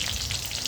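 Bangus milkfish fries in a pan of hot oil, giving a dense, steady sizzle and crackle that stays loud and close throughout, with no voices over it.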